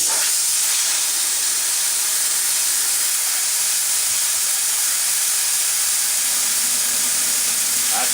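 An air compressor kicks on with a steady, loud broadband hiss that fills the whole stretch, with a faint low hum joining near the end; no one speaks.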